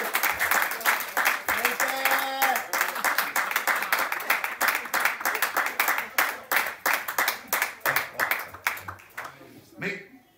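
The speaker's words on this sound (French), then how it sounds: "On acclame le Seigneur." A church congregation claps in praise of the Lord, a loud, dense round of applause that settles into rhythmic clapping and fades out near the end, with voices calling out over it.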